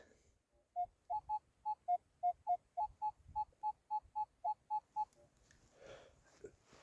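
A metal detector over a shallow target in a garden plot gives about fifteen evenly spaced, clear beeps at a single mid pitch, close and clean, followed by faint rustling.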